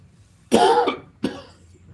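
Two harsh coughs, close to the microphone; the first is longer and rougher, followed after a short pause by a second, shorter one.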